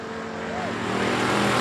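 Heat-race cars on the I-37 Speedway oval, a loud steady engine roar that builds slightly as the cars run around the track.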